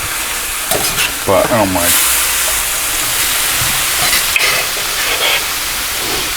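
Cheesesteak meat sizzling on an electric stainless steel commercial flat top griddle, a loud, steady, close frying hiss that runs throughout, with someone briefly talking over it.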